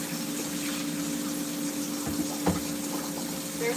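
Hot water running steadily from a kitchen tap during dishwashing, a constant close hiss and flow with a couple of faint clinks, no voices.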